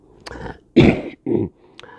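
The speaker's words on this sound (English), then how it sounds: "One cough. That was good." A single throaty cough, close and abrupt, followed by a short breathy exhale, with brief faint sounds before and after.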